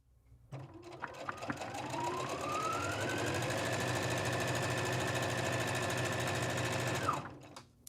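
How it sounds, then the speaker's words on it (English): Sewing a fabric drawstring bag, a sewing machine whirs up to speed and stitches in a continuous, loud, close run for several seconds before slowing to a stop, with no talking. "keep sewing"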